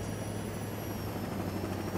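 A helicopter in the game Saints Row, a continuous droning rotor and engine hum with a thin high whine riding steadily on top, unbroken and without speech.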